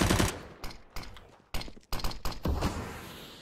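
Gunfire from a competitive shooter video game comes as a loud automatic burst followed by several sharp, separate shots and bursts spread over a few seconds, with no talking.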